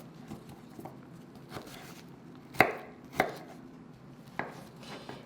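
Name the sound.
knife chopping onion on cutting board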